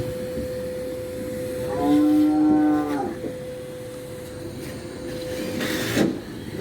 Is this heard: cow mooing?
yes